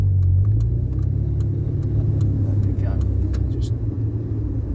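A restored car cruises gently on its first drive out on new tyres and brakes, a steady low engine and road rumble throughout with a voice talking over it.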